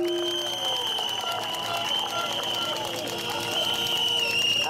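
Crowd applause for police at an election candidate registration event, a steady dense wash of clapping that carries through the whole moment, mixed with a loud voice over a public address system.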